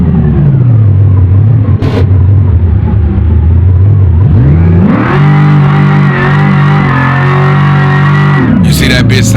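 A Charger mod car in BeamNG revs loudly and continuously, its engine note dipping and then climbing to a higher steady pitch with a sharp burst at the end, heard up close and alone.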